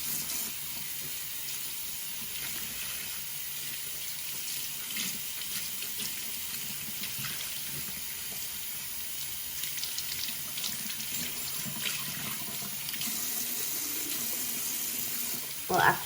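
Tap water runs steadily into a sink while a Tati Beauty Blendiful makeup sponge is rinsed, a continuous close splashing with small shifts as the sponge moves under the stream.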